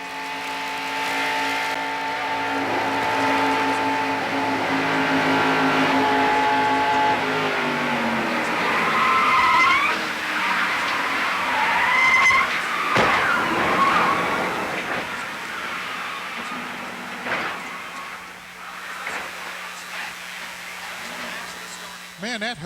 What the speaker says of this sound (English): Now let's go inside Buddy Baker's car.